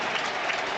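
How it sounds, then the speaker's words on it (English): A cricket ground crowd at the 2005 Ashes Test between England and Australia gives a sustained, dense wash of applause for the England players, steady and loud throughout this short moment. "They're still applauding"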